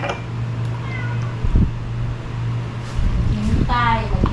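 Several cat meows rise near the end, with a couple of earlier brief mews, over a steady hum and some background voices.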